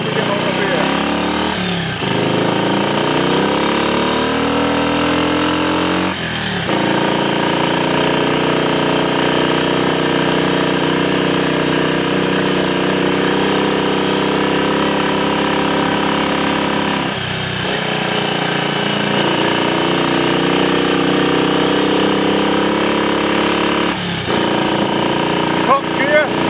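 Triumph Scrambles Cub replica motorcycle engine cruising at around 55 to 60 mph, a loud continuous buzzing drone with a few brief dips as gears change, close up throughout.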